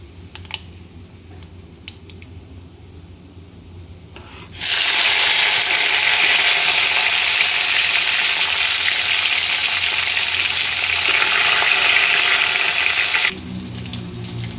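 Peanuts and green chillies drop into a mustard-cumin tempering, and after a quieter stretch the oil erupts into a loud, dense, sustained sizzle that lasts about nine seconds and then cuts back.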